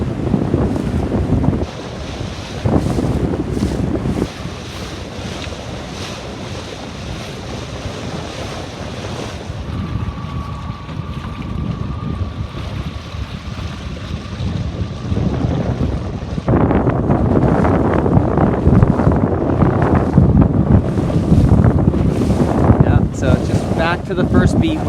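Strong wind gusting over the water during a C420 sailboat regatta, roaring and buffeting the microphone with waves and hull splashing, loud and continuous with surges in intensity.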